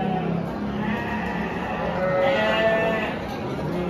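Goats for sale, a brown-and-white doe among them, bleat in a livestock pen with steady background noise and faint talk nearby; a few short bleats stand out in the middle.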